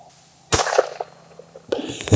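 An 1885 Winchester rifle fires a single sharp shot, a close crack with a short decaying tail, followed by a quieter metallic click and rattle as the action works.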